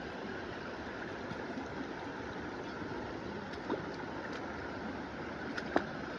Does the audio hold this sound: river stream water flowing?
yes